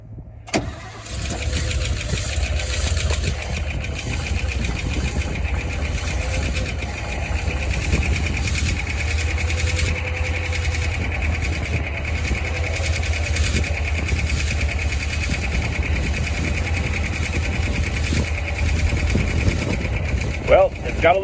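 The engine of a 1961 Chevy camper, left sitting for a long time, starts and settles into a steady idle with a fast, light lifter tick running over its low rumble for about twenty seconds, close and unbroken.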